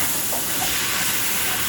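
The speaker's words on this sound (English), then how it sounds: "So I'm just sauteing my collard greens with my vegetables so I can pick up that flavor." Collard greens and mixed vegetables sauté in a pot, a continuous hissing sizzle that stays even and close throughout with no talk.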